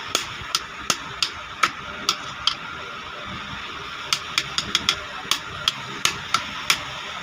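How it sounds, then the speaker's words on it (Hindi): A screwdriver is struck repeatedly with a hammer to free a jammed bush on an overlock machine, giving sharp metallic taps in an uneven rhythm, close and distinct with brief pauses between strikes. "दोस्तों इस तरीके से हमने पेचकस फंसाना है और चोट मारते जाना है।"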